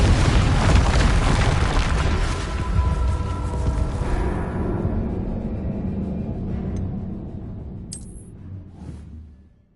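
A Confringo fire curse blast erupts in Hogwarts Legacy combat, a heavy booming explosion with a roaring rumble that slowly decays over several seconds, followed by faint whooshes and a small high chime near the end.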